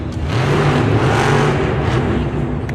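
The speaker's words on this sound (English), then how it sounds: "Nice slap wheelie for Todd LeDuc." A monster truck engine roars loudly and steadily during a Monster Jam freestyle run in a St. Louis stadium in 2022, a dense sustained rumble with no talk over it.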